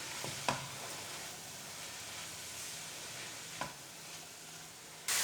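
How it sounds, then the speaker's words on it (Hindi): Spices fry and are stirred in a pan, a faint steady sizzle with two soft knocks of the spoon against the pan and no talking. "मसाले भी हो चुके हैं हल्की से फ्राई।"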